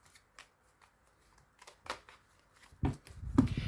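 Cards from a 32-card deck shuffled during a fortune-telling card reading: soft scattered riffling ticks, then two louder close riffles toward the end, with no talking.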